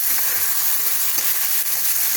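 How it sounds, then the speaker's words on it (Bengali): Chicken pieces hit hot frying masala in a pan, producing a loud, dense, unbroken sizzle close up with a few faint stirring scrapes. "এখন আমি চিকেনের টুকরোগুলো সব এর মধ্যে দিয়ে দিলাম।"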